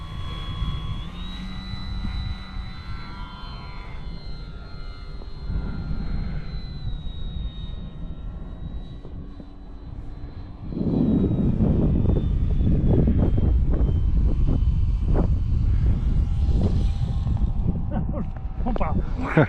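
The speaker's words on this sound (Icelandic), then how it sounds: "Við erum bara að fljúga." An airplane in flight at Arnarvöllur airfield gives a steady, loud engine drone with a faint whine, and the roar swells louder midway while people talk over it.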